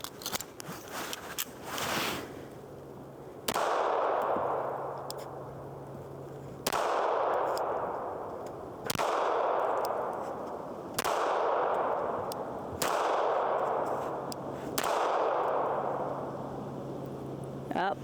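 Smith & Wesson EZ pistol fired outdoors, about six or seven sharp, loud reports spaced a couple of seconds apart, each with a short ringing decay, after a brief quieter lead-in.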